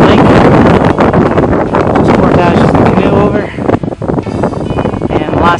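Strong wind buffets the microphone on a big lake during solo autumn canoe camping, a loud continuous roar that booms and rumbles, easing slightly near the end, with no clear talking.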